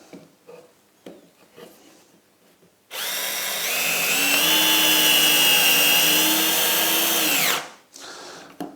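A Festool CXS cordless drill whirs loudly and steadily for several seconds as it bores through MDF board in a confined space, preceded and followed by scattered clicks and handling noises.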